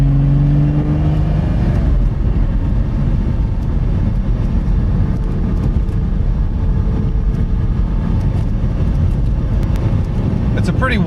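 A modified 2007 Porsche Cayman being driven hard on a warm day in Maryland, its engine a steady loud drone with rising tone at the start and end, heard from inside the cabin with continuous road noise.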